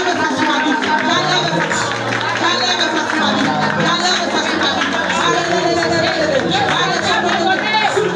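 A church congregation at a special worship service cheers and prays aloud together. Many voices overlap in a loud, continuous crowd swell with scattered claps.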